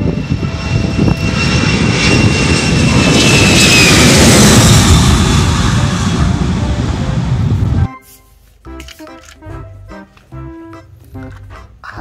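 An airplane's engines roar loudly and steadily, swelling to a peak before the sound cuts off abruptly into quieter, choppy noise for the last few seconds.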